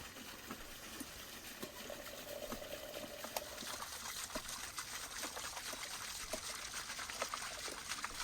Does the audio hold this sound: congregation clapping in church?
no